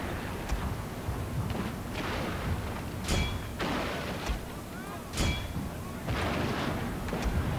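Naval cannon fire in the strategy game Fall of the Samurai, with deep booming shots and whistling shells every second or so over a dense, continuous battle rumble.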